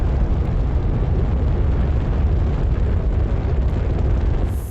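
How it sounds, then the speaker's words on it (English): A rocket launches into space in Astroneer with a loud, continuous, broadband roar that stays at a steady level for the whole stretch and eases off slightly at the very end. "So let's say goodbye to our lovely base as we rocket into space."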